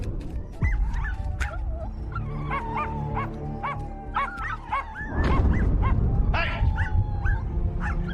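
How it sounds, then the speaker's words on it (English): A dog barks repeatedly in quick, sharp yips and yelps, with some whimpering mixed in, close and insistent throughout. "But the barking seems to follow him everywhere."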